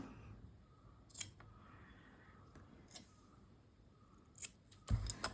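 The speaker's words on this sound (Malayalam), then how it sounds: "കുറച്ച് കട്ട് ചെയ്ത് കളഞ്ഞിട്ടുണ്ട് കേട്ടോ" Scissors snip fabric for a handmade dress in a few quick, crisp cuts scattered through a quiet room, with a louder burst of snipping near the end.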